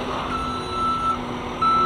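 A high electronic beep repeats steadily from a reversing John Deere combine, set against a low engine rumble and background noise.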